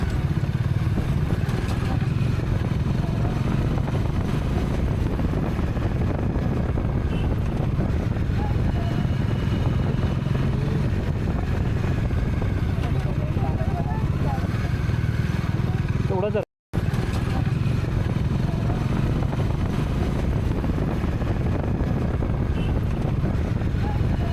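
A motorbike carries a family at night along a rough, uneven road broken up by construction and diversions between Dombivli and Virar, its engine droning steadily under strong wind rush, with one brief dropout partway through.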